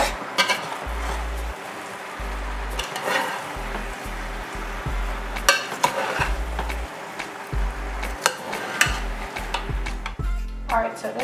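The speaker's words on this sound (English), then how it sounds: "just bear with me while I try to stir this pot" Jamaican curry shrimp stirred in a pot over medium-high heat, a steady sizzle broken by repeated scraping and clinking of a spoon against the pot, close and busy, with occasional faint talk.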